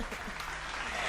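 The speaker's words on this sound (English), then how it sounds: "Claps." A small group of people clapping during a casual interview, a brief patter of applause at moderate distance with voices murmuring underneath.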